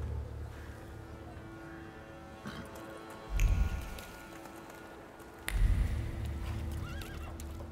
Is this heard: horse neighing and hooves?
yes